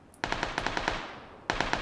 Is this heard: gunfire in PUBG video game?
yes